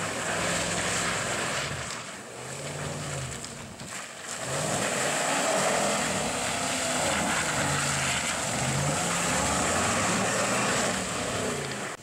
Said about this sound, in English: we've turned off stability control and traction control so that we can spin a couple of donuts real quick